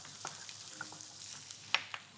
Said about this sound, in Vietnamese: cho vào đây khoảng 2 muỗng canh dầu ăn để chúng ta phi thơm hành tím